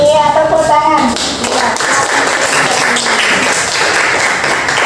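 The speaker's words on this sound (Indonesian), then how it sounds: "Iya, tepuk tangan." Classroom applause in an Indonesian primary science lesson, a burst of clapping from students following a teacher's voice, with scattered taps and chatter mixed in.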